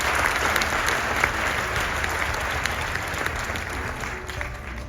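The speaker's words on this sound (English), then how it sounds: "let's give them a round of applause" A seminar audience at a business event in Italy applauds, a dense, even wash of many hands clapping that carries steadily at moderate loudness and tapers slightly toward the end.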